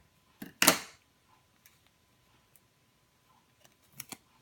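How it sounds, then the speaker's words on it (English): Scissors snip off an overlong end of card stock piece: a sharp crisp cut near the start, then quiet, then a quick pair of softer snips near the end, close and dry with no talking. "that end is just a little bit too long, so we'll just snip that off"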